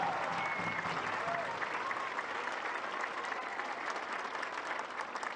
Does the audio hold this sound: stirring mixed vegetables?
no